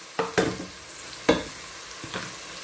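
Pangasius fish stew simmers in a pot, with a few sharp knocks and scrapes of a utensil against the pot over a soft, low bubbling, close and fairly quiet.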